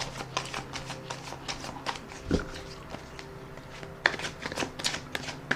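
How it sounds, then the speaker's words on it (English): Tarot card deck being riffle shuffled up close, a rapid run of crisp papery flutters and snaps in several bursts, with a firmer tap partway through as the cards settle. "So I'm going to put another shuffle and rifle on the deck."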